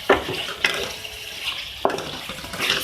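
Spices such as coriander powder are stirred into chicken liver in a pan: three or four sharp, close scraping strokes against the metal, with a soft sizzle between them.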